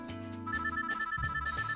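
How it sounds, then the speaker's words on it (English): Electronic phone ringtone in the Backstage Pass video game, a looping melodic chime that repeats steadily and plays clearly alone. "My phone rings the moment I sit down to do homework."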